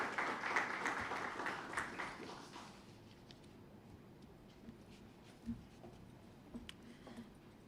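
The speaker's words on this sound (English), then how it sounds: "Let's give her a hand of applause." Audience applause at a youth skills training programme graduation ceremony, a short burst of clapping that fades within about three seconds, leaving quiet room tone with a few faint knocks.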